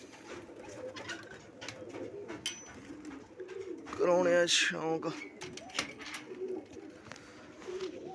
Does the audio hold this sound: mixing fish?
no